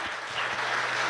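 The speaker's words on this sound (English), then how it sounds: "I want to give a big round of applause to Floyd for coming up, sharing his story" An audience at a cannabis social equity panel event claps for a speaker, a short burst of dense applause heard on its own.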